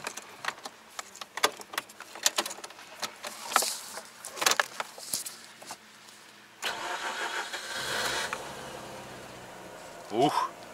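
A Mazda RX8 Type S 250hp with a six-speed manual, left unstarted for three months, is cranked and fires up at once, settling into a running rotary idle after some earlier clattering and handling noises.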